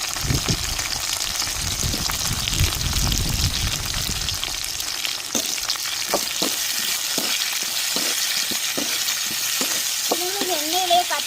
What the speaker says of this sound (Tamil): நம்ம வெட்டி வச்ச தக்காளியும் கத்திரிக்காயும் இந்த எண்ணெயிலே வதக்கி எடுத்துக்கிறோங்க